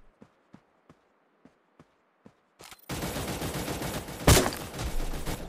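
Gunfire in the battle-royale shooter Cyber Hunter, faint footsteps followed by a sudden dense stretch of loud automatic shooting with one sharp louder crack near the end, no voices.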